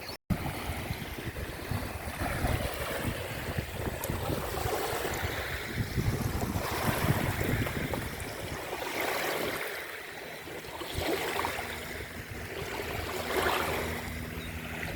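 Ocean waves roll and wash at a seaside shore in soft, continuous surges that swell and ebb, heard at a moderate distance with light wind.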